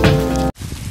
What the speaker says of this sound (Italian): Pioggerellina bella, però è diluvio.